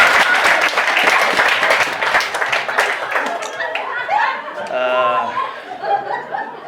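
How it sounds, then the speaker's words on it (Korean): An audience at a live comedy show breaks into loud applause that fills the room, then thins into scattered claps and chatter with some laughter. "여기에 공감하시는 분 박수 한번 주시면 대단히 고맙습니다"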